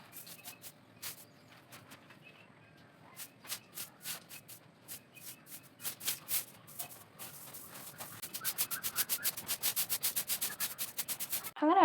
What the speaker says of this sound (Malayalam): മുറ്റൊന്ന് അടിച്ച് വാരി ക്ലീനാക്കാൻ വേണ്ടിയിട്ട്